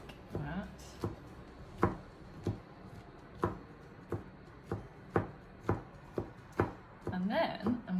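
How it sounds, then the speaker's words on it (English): Mushrooms chopped with a knife on a board, a steady series of about a dozen crisp, close knocks roughly every half second, with a brief spoken word near the end. "I'm quite bored of chopping the mushrooms now"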